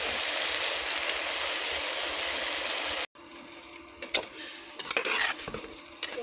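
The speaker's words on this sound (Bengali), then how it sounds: "এবার ভালো করে নেড়ে দেবো। ভালো করে নেড়ে এগুলো কষিয়ে নেবো তরকারি।" A spiced curry of taro stolons and potatoes is stirred and fried in a pan, with a steady loud sizzle and then scraping spoon strokes and clinks against the pan after a brief break.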